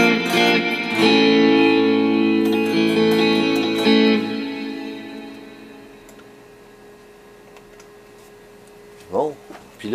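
A guitar chord rings out through an Amplitube 5 rack reverb effect, its washy tail slowly decaying over several seconds, followed by a brief plucked note near the end.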